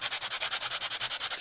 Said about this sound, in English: So we're sanding parallel to the grain, with the grain, and evenly too.